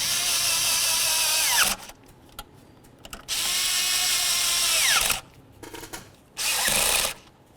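Power tool snugging the fuel injector studs and bolts on a 1994-2004 Chevy S-10, three loud close whirring runs of one to two seconds, each winding down with a falling pitch, separated by quiet pauses and small clicks.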